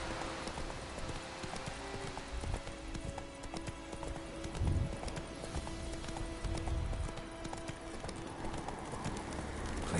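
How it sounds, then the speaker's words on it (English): Rhythmic clip-clop of horse hooves at a steady trot in The Witcher video game, moderately loud over a constant background hum with faint game-like tones. "Horse."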